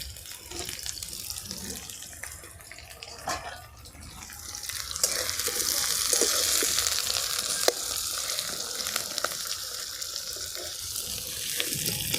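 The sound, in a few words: chopped onions frying in oil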